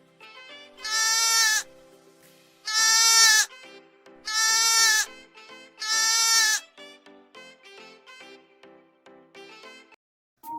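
Sheep and lambs bleating nearby: four long, loud, wavering bleats in a row, then a quicker series of shorter, fainter bleats toward the end.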